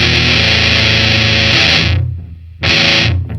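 An electric guitar runs through a fuzz pedal, giving a thick, loud, saturated tone that cuts out abruptly, leaves a short gap, and then returns for another burst.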